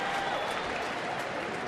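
Baseball stadium crowd during a Royals at Twins at bat, a steady wash of distant cheering and murmur with no individual voices standing out, filling the whole moment at an even level.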